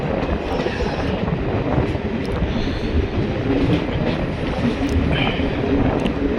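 A passenger train on the snowy Banihal to Srinagar line pulls into a railway station, its wheels giving a loud, steady rumble and clatter that runs without a break throughout.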